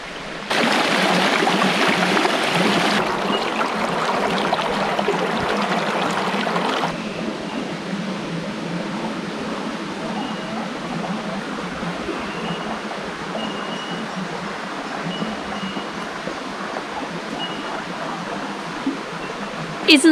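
Stream water flowing in the Sunshine Coast Hinterland of Queensland, Australia, a steady broadband rush that is louder in the first seconds, then settles into a softer continuous babble.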